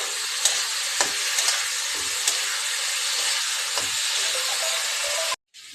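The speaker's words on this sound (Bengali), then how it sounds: "এবার ভালো করে মশলাটাকে কষিয়ে নিয়ে" Whole-spice paste with a little salt sautés in a pan, a steady loud sizzle with occasional spoon scrapes, cutting off abruptly near the end.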